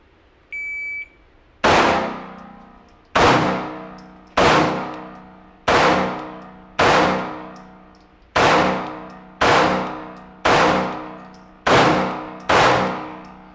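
Ten loud, sharp gunshots are fired at B8 targets at a steady pace of roughly one per second, each ringing briefly, after a short timer beep at the start.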